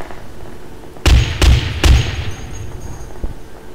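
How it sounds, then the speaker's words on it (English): An APC in the video game Project Reality fires HEAT shells: three heavy, booming thuds in quick succession about half a second apart, loud and close, then a fading rumble and a faint later thump. "now you know what it's like to have heat shells fired at you"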